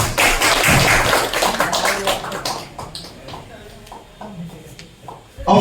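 A crowd claps at a film trailer release event, dense and loud at first and then thinning into scattered claps, with voices over it.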